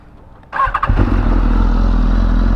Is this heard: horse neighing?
no